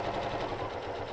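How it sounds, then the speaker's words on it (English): Sewing machine stitching a Japanese rice bag, a brief, close, steady mechanical whir with rapid needle ticking, heard alone. "let's go ahead and sew"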